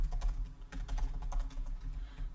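Code typed on a computer keyboard: a rapid, close run of light key clicks in an uneven rhythm, heard on its own without speech.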